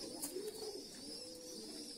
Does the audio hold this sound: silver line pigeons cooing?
yes